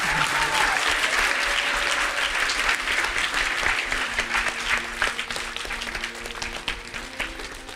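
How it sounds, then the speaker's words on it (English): A large audience at a spiritual gathering applauds in a dense, sustained roar of clapping that fills the room, thinning slightly toward the end as individual claps emerge. "Let's have another round of applause for Stuart Sender."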